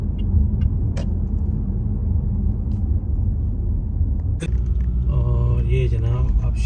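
Steady evening road traffic in Guilin city, a continuous loud rumble of car engines with passing vehicles, a sharp clank near the middle and a rising engine or horn-like tone toward the end.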